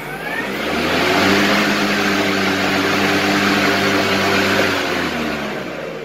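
A cordless rechargeable lawn mower runs steadily, with a loud, even electric motor whine and blade whirr that rises at the start and eases slightly near the end.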